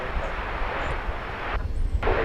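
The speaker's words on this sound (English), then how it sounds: "Emirates daily flight coming in from Dubai." Boeing 777 jet operated by Emirates on its daily flight from Dubai, arriving at DFW Airport, gives a steady broadband engine roar that holds throughout without talk.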